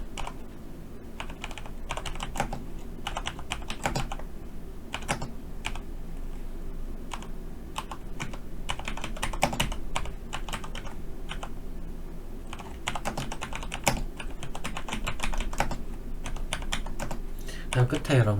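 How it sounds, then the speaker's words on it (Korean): Rapid, steady typing on a computer keyboard continues throughout, with dense clicks and occasional heavier key strikes up close, while working on an ITQ PowerPoint exam document. "쭉 타이핑 할게요"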